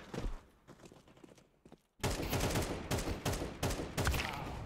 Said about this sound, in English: maybe I should just practice with the shotgun